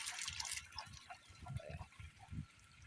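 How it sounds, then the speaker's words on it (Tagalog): Water poured into a pig drinker on a small farm, splashing and trickling in short uneven bursts close by, with no talk over it. "dagdagan lang natin ng tubig ulit para maghapon, di sila naubusan ng tubig."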